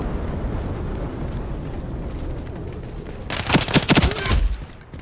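Submachine gun fire in the shooter Ironsight: after a stretch of low rumbling game ambience, a rapid close burst of gunshots crackles loudly for about a second, then fades.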